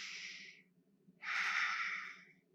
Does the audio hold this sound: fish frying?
no